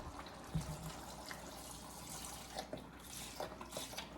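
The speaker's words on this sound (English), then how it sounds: "pouring all my chicken broth in" Chicken broth pours steadily into a hot pot, a soft continuous splashing with a few faint clinks, fairly quiet and close.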